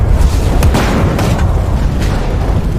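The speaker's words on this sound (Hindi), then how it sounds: "अंग्रेजों की ये तोप हमारे लिए मुसीबत बन रही है।" A British cannon fires in a historical drama about the Azad Hind Fauj, heard as loud, deep booms that sit inside a continuous roar of battle noise.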